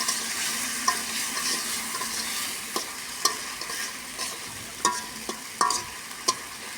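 Pigeon curry stir-fried and braised in a covered pan, a steady hiss of sizzling with scattered sharp scrapes and taps of a spoon against the pan, close and moderately loud, with no voices.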